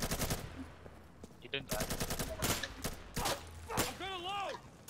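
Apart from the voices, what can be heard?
gunfire in Insurgency video game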